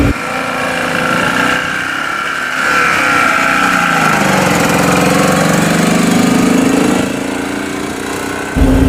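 A BMW Isetta microcar's small engine drones loudly and steadily from inside the cabin while driving, its pitch sagging and rising as the engine starts to cut out under full throttle on a hill.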